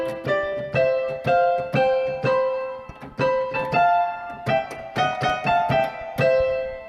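Solo piano plays an overture in a beginner arrangement, with a second note added in the left hand: bright, ringing struck chords and a melody line, steady and close, no voices.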